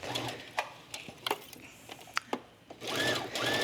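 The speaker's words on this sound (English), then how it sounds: "I'm just gonna baste that into place." A domestic sewing machine bastes fabric for a Bondi top, its motor running in short quiet bursts broken by small clicks and pauses, close and soft with no talking.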